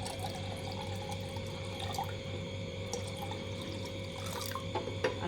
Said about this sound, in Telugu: పాట్లో వాటర్ పోద్దాము.